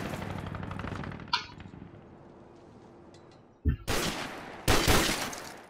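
Gunfire in Call of Duty 4, with rapid automatic bursts and sharp single shots, loud and close, arriving in several separate volleys with quieter game ambience between them.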